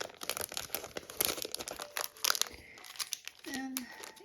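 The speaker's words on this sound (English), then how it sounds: "Sorry for the noise of the wrapper." A plastic wrapper on a Heidi Swapp monthly craft kit crinkles and crackles in quick bursts close up, with a voice speaking softly underneath.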